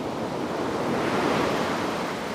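Ocean surf rolls and breaks steadily on a beach during surf fishing, a continuous loud wash of waves with some wind noise, with no voices.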